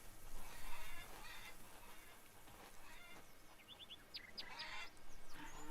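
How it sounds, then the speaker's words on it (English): Faint bird chirps and short whistles from a farming video game sound over a soft background hum, scattered and distant. "Birds are chirping."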